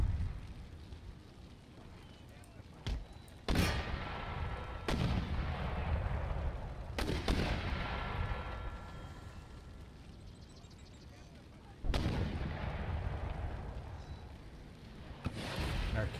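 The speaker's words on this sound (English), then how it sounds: "Cannon did fire and kind of make it over the walls fairly near their target" Cannon artillery fire in the PC strategy game Empire: Total War, with several loud booming shots at irregular intervals over a continuous rumble of battle ambience.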